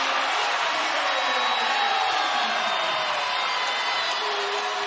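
A college basketball crowd at a Saint Mary's versus BYU game roars after a made basket, a broad, sustained wash of cheering that fills the arena evenly from start to finish.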